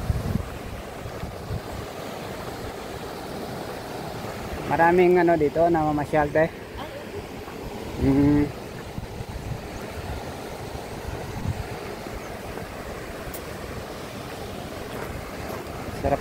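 A river flowing near a trail on the way to a waterfall, heard as a steady, broad rushing wash throughout, with a person speaking briefly over it midway.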